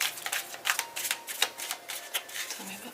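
Tarot cards being shuffled by hand, a fast run of crisp papery riffs and flicks at close range, with no voice.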